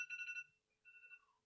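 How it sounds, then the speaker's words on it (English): A faint electronic alarm beeps in two short tonal bursts with a brief gap between them. It is quiet and sounds a little distant, and there is no talking over it. "If this alarm stop, come on, alarm."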